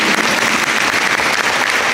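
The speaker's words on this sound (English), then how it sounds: "You clap now" Audience applause fills the whole stretch, dense, steady and loud, with no pauses or voices, like a full hall clapping for a Hollywood performer on stage.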